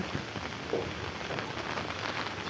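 Steady, continuous rain falls on a rooftop garden of potted plants, a dense even hiss of drops spattering on surfaces, close and unbroken throughout with no voices.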